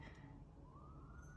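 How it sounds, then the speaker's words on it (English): An ambulance siren wails faintly in the background, a thin rising tone emerging midway through and holding steady over low, steady ambient rumble. "like an ambulance siren going off."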